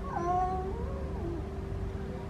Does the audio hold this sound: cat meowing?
yes